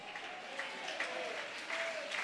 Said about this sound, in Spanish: Si ese aplauso es para mi Cristo